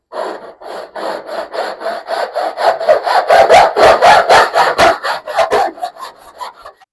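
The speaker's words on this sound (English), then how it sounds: "Just using an ordinary hacksaw." Ordinary hacksaw cutting through a gutter pipe, loud close rhythmic back-and-forth rasping strokes that speed up and grow heavier before trailing off, with no talking.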